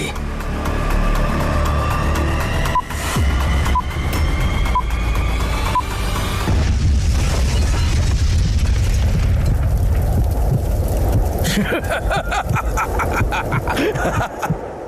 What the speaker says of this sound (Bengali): টেরোরিস্টরা ব্লাস্ট করিয়েছে